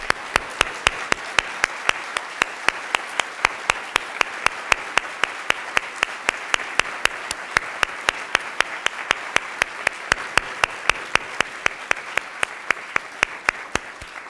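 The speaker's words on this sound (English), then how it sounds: "If you could stand if you're in the audience so we could applaud you." Audience applauding at a ceremony honoring award recipients, a steady sustained round of clapping from a crowd that runs evenly throughout without talk.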